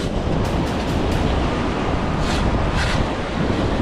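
Water washes in steadily along a shore right beside someone metal detecting, with a loud broad rush and gusts of wind buffeting the microphone, with no voices over it.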